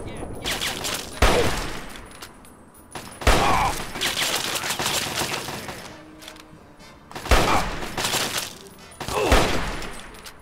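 Gunfire in Fallout 3 during a fight with enemies at Lincoln goods: repeated loud bursts of shots come in several clusters with quieter stretches between them, and a voice speaks briefly.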